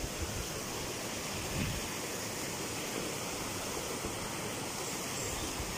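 Steady, dense rush of flowing stream water by a bridge, an even broadband wash that stays constant throughout with no voices.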